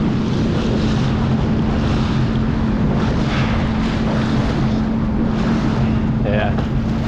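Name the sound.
Sea-Doo personal watercraft riding on water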